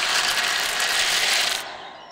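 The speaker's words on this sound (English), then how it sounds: "It was the sound of the baby birds coming out of their eggs." Crisp, rapid cracking of eggshells as baby birds hatch, a close and steady crunching texture that holds for about a second and a half and then drops away.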